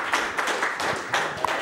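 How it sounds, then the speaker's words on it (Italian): Applause from an audience for a guest on an Italian show, a brief burst of clapping with scattered claps that rises and falls over less than two seconds. "Un applauso."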